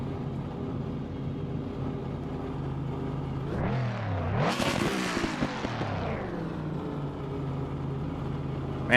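A Ford Mustang GT3 race car engine in the video game Assetto Corsa Competizione drones steadily, then swells into a loud rising rev and pass near the middle before settling back to a moderate hum.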